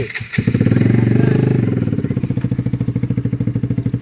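A motorcycle engine starts and runs close by with a loud, steady rhythmic putter that gradually slows into an even idle.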